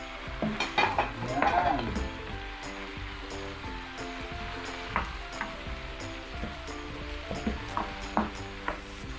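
Tomatoes sauté with chicken in a pan for chicken biryani, giving a soft continuous sizzle with scraping and stirring clinks of a utensil, while a voice speaks briefly over it.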